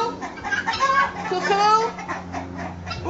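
Free-ranging poultry fowls clucking and calling to one another in a dense, continuous chorus of overlapping calls, close and fairly loud, with no talk over it.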